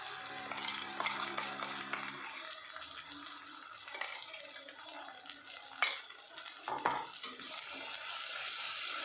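Spice paste for chole sizzles steadily in a hot pan as it fries, with soft stirring scrapes mixed into the continuous crackle and no talking.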